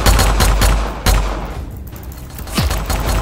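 Pistol shots ring out in a Roblox pistols 1v1 match, coming as loud, rapid cracks in quick bursts with a short lull in the middle and no talking.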